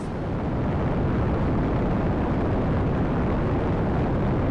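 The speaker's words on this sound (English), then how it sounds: "And liftoff." A rocket lifting off at launch fills the scene with a continuous, loud, broad roaring rumble that holds steady throughout with no breaks.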